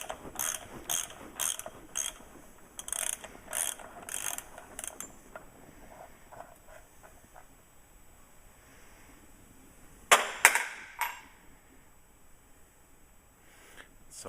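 Ratchet wrench clicks on a 1 5/16 socket at a 1962 Corvette C1 steering gear box, fast bursts of ratcheting early, then quieter sparse clicks and a sharp metallic clatter near the end, close and loud.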